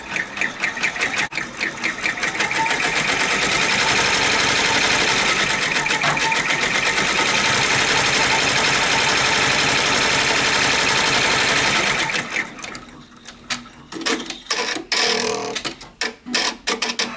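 An embroidery machine stitches a placement line for rickrack on an in-the-hoop tooth fairy pillow, a loud rapid mechanical chatter that runs steadily for about ten seconds, then slows into scattered clicks and thumps.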